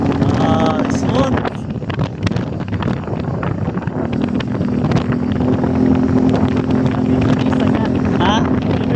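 An Easyride 150N 160cc motorcycle on a test ride gives a steady engine drone. Heavy wind buffeting on the microphone runs underneath it, and a few voices come through at times.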